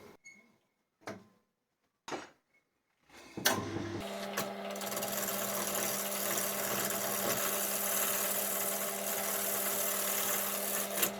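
A wood lathe spins a multi-axis turned workpiece, a steady whirring drone with a mechanical hum rising after a few short knocks and clunks, continuous and fairly close with no talk.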